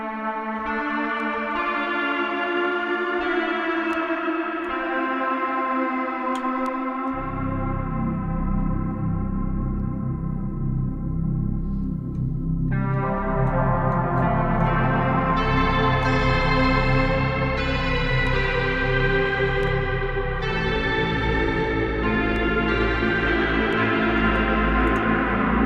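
A SynthMaster 2 lo-fi reverb patch built from imported samples plays sustained, harmonically rich synth chords with heavy washy reverb and a low droning bass entering partway, loud and continuous without talk.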